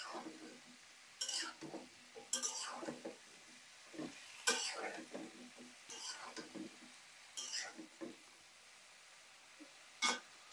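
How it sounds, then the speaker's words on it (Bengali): Vegetable curry is stirred and sautéed in a home kitchen pan, giving intermittent bursts of scraping and sizzling at moderate distance with quiet gaps between strokes. "সুন্দর করে কষানো হচ্ছে"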